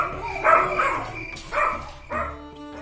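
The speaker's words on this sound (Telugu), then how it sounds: "ఒక కుక్క గట్టిగా మురిగే చప్పుడు వినపడుతుంది" A dog gives three loud, drawn-out barking cries in separate bursts, close by and tonal, almost whining.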